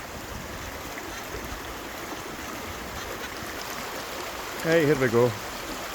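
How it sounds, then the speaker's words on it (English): A fast-flowing river rushes with a steady broadband wash close by, continuous throughout, and someone speaks briefly over it near the end. "there's a river here behind me."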